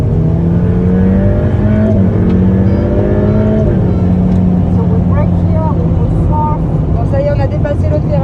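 A Ferrari F8 Spyder pulling away under power on a race circuit, its loud engine note climbing steadily in pitch through the gears, close and continuous, with a voice talking over it.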